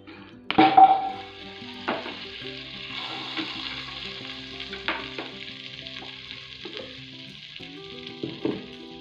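Butter sizzling in a pressure cooker on a stovetop while green coriander rice is prepared, a steady soft frying hiss with a few sharper pops and utensil touches, close by, with no talking.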